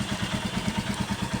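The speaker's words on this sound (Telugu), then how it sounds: "ఇదిగోండి మన బైక్" A motorcycle engine running on the Araku ghat road, a steady rhythmic low thumping pulse under constant wind-like rumble, close and moderately loud with no voices.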